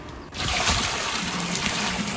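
Water gushes into a large catering pot for a 15 kg vegetable biryani, roughly 22 litres poured in. It starts abruptly after a brief quiet moment, then becomes a steady, loud splashing rush.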